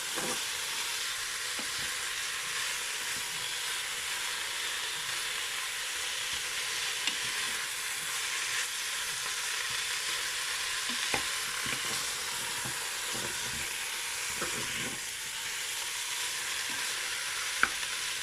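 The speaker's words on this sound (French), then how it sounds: "j'ai mis toute ma viande. On va tout faire dorer et ensuite j'ajouterai les oignons." Pork meat browning in a frying pan gives a steady, dense sizzle with occasional light stirring clicks, close and continuous throughout with no one speaking.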